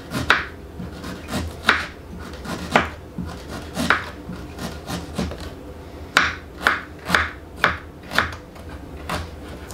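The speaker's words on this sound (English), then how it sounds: "take my ginger and chop them into nice fine pieces" Fresh ginger is chopped into fine pieces with a knife on a cutting board. About a dozen crisp, close knocks come at an uneven rhythm, with no voice over them.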